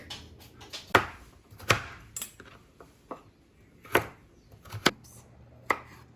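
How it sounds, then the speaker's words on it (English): A knife chops a yam into small cubes on a cutting board, giving irregular hard knocks with quieter taps between them, close and clear against a soft kitchen background with no talking. "I'm gonna chop this up into little cubes"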